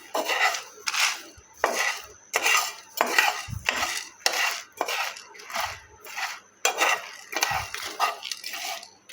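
Spices and green chillies dry-roasting in a pan, stirred with a metal spoon in steady repeated scrapes and clinks against the pan, close and fairly loud, with no one speaking.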